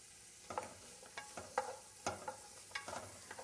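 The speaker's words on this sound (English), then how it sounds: "And then we'll cook the onions for about 5 minutes." Onions cooking in melted ghee in a pan, a soft sizzle under repeated close scraping stirs, about eight light strokes in uneven rhythm, with no talking.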